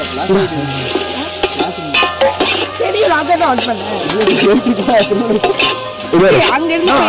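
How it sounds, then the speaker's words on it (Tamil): Tomatoes go into a frying biryani pot over a wood fire, giving a loud, continuous sizzle and crackle close up, while several people talk over it throughout. "இப்போ நம்ம தக்காளி போட போறோம்"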